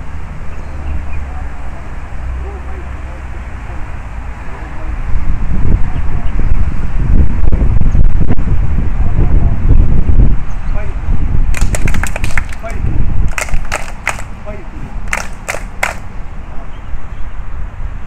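Gusty wind buffets the microphone outdoors at a flag-raising ceremony at Thomas Square, heard as heavy low rumble that swells from about five seconds in, with faint voices beneath.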